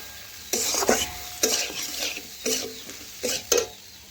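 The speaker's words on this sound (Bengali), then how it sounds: "আমি ঝিঙে আর মশলা একসাথে কিছুক্ষণ নাড়াচাড়া করে কষে নিচ্ছি" Ridge gourd and spices being stirred and fried in a pan to make a vegetarian curry, with a steady low sizzle under repeated scraping strokes of the spoon in bursts about once a second.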